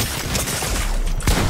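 Dense, continuous gunfire from Fortnite on PC crackles throughout, a loud rapid fusillade with a sharper burst near the end.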